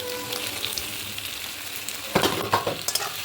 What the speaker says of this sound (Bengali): দিয়ে কষিয়ে নেবো আমি ভালো করে